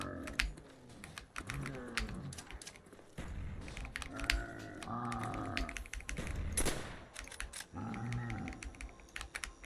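Rapid clicking of a computer keyboard during a game, sharp keystrokes arriving in quick uneven bursts with brief pauses, close and fairly quiet, with occasional low vocal sounds.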